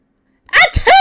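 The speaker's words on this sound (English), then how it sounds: "Achoo!" A character sneezes in the Phoenix Wright: Ace Attorney video game, one sharp, loud close sneeze after a brief silence.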